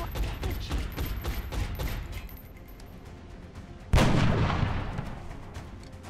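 Rapid volleys of gunfire crackle in the XCOM Long War video game, a dense string of shots followed by one heavy, booming blast that rings out and slowly decays.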